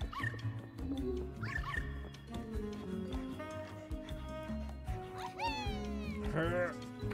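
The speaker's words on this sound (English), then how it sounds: "It's weird to me that Luigi just randomly has a ghost dog pet." Yips, whimpers and barks from a ghost dog pet in the video game Luigi's Mansion 3, several short calls over music and game effects, with speech mixed in.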